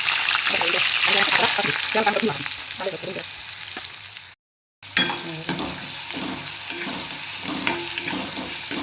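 Loud hissing sizzle of frying in hot oil in a pan with stirring scrapes, for vegetables with green chillies, coriander and kasuri methi; a short gap, then steady sizzling with rhythmic stirring resumes.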